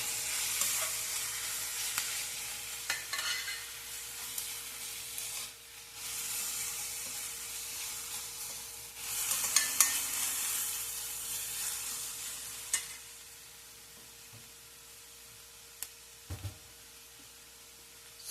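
Ingredients for mango rice sizzle and fry in a pan while being stirred, a steady close hiss with scraping stirs that swells and eases over the stretch, no voices.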